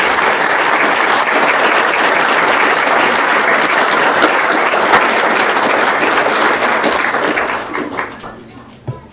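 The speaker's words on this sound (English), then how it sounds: "Let's give them another round of applause." Sustained applause from a crowd at a public school board meeting, dense steady clapping for several seconds that tapers off into a few last scattered claps.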